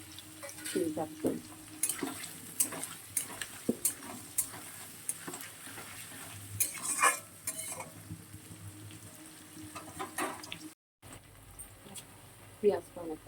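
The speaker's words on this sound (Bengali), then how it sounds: "পেঁয়াজটা অনেকটা ভাজা ভাজা হয়ে গেছে" Onions and potatoes fry in a pan with green chillies while a utensil stirs them, giving a soft steady sizzle with scraping clicks, close by and under a person talking.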